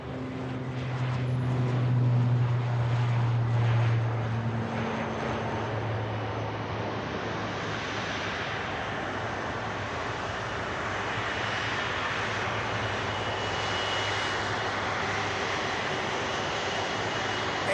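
A heavy Air Tanker jet at Manchester Airport makes a continuous, full roar with a low hum near the start, holding steady and loud the whole time with no voices over it.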